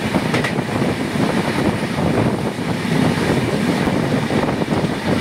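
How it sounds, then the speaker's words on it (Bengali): A train rumbles past Pathorkhola railway station on the Guwahati–Agartala line, heard as a steady, loud rolling roar with wind buffeting the microphone, with no clear clicks of wheels on joints. "ট্রেন এখন পাথরখোলা রেলওয়ে স্টেশন ক্রস করছে"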